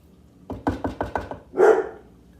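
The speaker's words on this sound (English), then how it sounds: "There could be a fly out there, and he's barking at it." A dog barks five times in a quick, steady rhythm, then lets out a longer, higher whining bark, close by and fairly loud.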